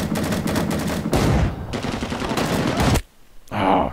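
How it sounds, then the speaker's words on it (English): Suppressive gunfire in the Vietnam War video game Rising Storm 2: Vietnam, with loud, dense bursts of rapid automatic fire that run almost continuously, break briefly, then resume before a short quiet gap and a final burst. "We are taking some suppressive fire there."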